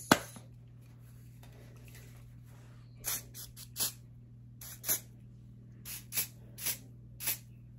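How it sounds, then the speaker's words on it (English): Hair spray hisses from a can in short, close bursts onto the edges of the hair while styling, roughly eight separate sprays spaced a second or so apart after a quiet stretch, with a faint steady hum underneath. "I'm gonna spray some of this on my edges."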